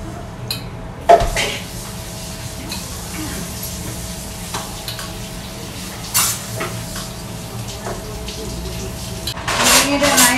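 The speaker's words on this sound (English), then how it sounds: "Give it a nice stir." Cornflour and milk stirred in a pan, with steady scraping and clinking of a utensil against the pan over a low background hum, a few louder knocks near the start and end.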